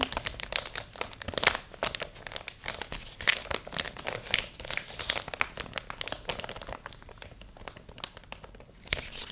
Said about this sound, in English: I really like the simple crinkle that comes when I just run my hand over the package.